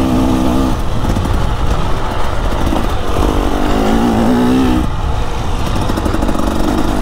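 A 2024 KTM dirt bike engine drones and revs while riding a rocky trail and quarry, loud and close, its pitch rising and falling with throttle changes.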